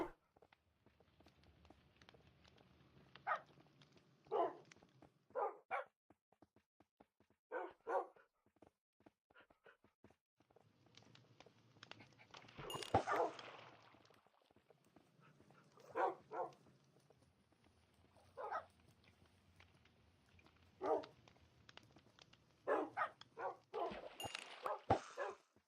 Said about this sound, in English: Be fun to set the dogs loose on all those pillagers over there.